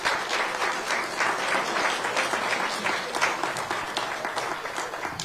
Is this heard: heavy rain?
no